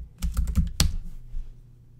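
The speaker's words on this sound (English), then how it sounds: "Then type in Add This." Quick burst of keystrokes on a computer keyboard, a handful of close clicks tapped in fast succession ending with one sharper press, then quiet.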